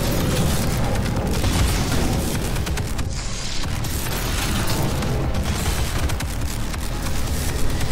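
Rocket explosions boom repeatedly in the video game Doom, dense loud blasts and mechanical clatter filling the whole stretch without a break.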